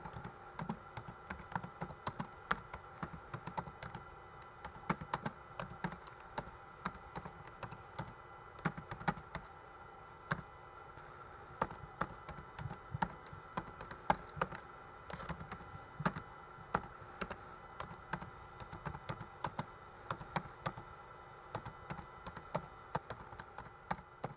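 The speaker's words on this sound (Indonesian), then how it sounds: "tolong ketik naskah ini dengan cepat" Rapid, continuous clicking of a computer keyboard as a script is typed quickly, close and fairly quiet, with uneven bursts of keystrokes and no talking.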